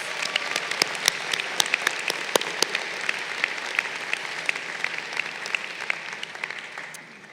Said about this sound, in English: Let's give Max and Ricardo and Kimmy a big round of applause.